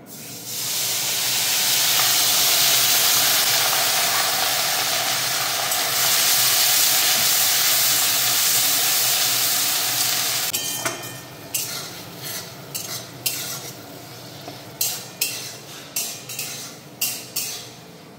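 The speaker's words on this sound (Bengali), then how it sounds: "এখন আমি বেটে রাখা পেঁয়াজটা দিয়ে দিচ্ছি।" Ground onion paste hits hot oil and garam masala in a pan for a paneer dish, bursting into a loud, continuous sizzling hiss. The hiss eases into a series of sharp clinks and scrapes of a utensil against the pan.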